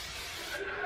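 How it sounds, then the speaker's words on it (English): Instant Freeze hairspray sprays from an aerosol can in one continuous, close hiss that fills the whole moment. "just gonna spray it down."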